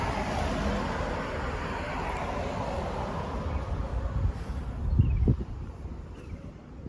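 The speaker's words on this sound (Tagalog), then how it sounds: "Naririnig ko na yung bus." Street traffic in Perth, Australia, with a broad steady roadway rumble and wind noise as a city bus approaches; the engine swells briefly near the end, then the sound eases.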